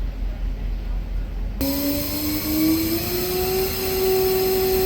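A new forklift's power take-off kicks in during a mast swap. A low hum is broken by a sudden steady motor whine that rises slowly in pitch and stays loud and close until the end.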